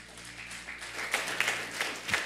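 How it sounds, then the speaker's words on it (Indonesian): A church congregation at a morning worship service gives brief, scattered applause, a few bursts of clapping rising over low room sound. "Tepuk tangan."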